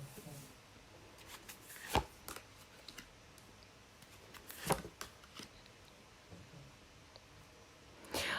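Soft, quiet card shuffling for a fortune-telling reading, with scattered riffles and flicks of the deck and a few sharper snaps standing out against a hushed background.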